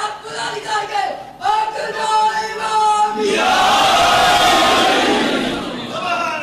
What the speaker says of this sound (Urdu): دیکھ کیا رہا وہ نعرے لگوا رہا ہے